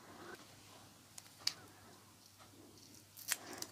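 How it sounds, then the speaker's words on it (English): Scissors cut a sticky foam craft pad, a few quiet, close snips separated by pauses, with no talking over them. "I'm just going to cut that size because it's too big for my paper."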